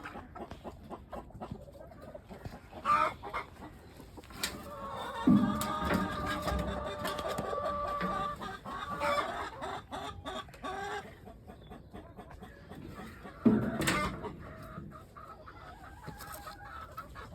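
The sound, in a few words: hen clucking on a small farm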